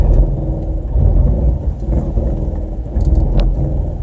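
A 2019 Toyota Tacoma TRD Pro engine rumbles loud and close as the truck crawls off-road up and over a rock, a steady low drone with slight revving swells and no speech.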